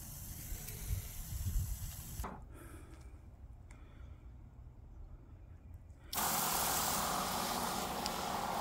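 Broadband hiss of a foliar fertilizer sprayer misting garlic and onion crops, running steadily for a couple of seconds, pausing, then resuming loud and continuous.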